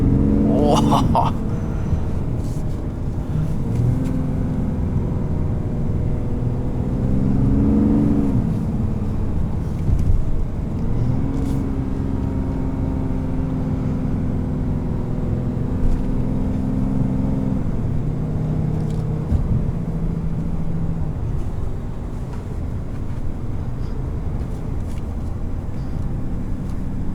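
A 2020 Ram 3500HD pickup truck with a Cummins diesel engine accelerating, heard from inside the cab as a loud, steady low rumble with rising and falling engine tones and wind noise throughout.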